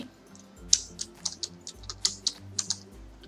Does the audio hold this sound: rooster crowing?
no